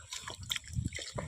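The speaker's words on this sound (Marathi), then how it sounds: "त्यासाठी आता पाणी ओतलं आपण" Water poured over pounded crab in a stone mortar, a short close splashing and dripping burst, fairly soft.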